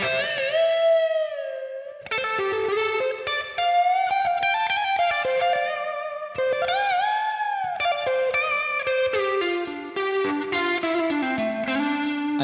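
A clean electric guitar solo through a clean amp head with a doubler, shimmering tone, sustained melodic notes and bends phrased in bursts with short gaps, loud and alone.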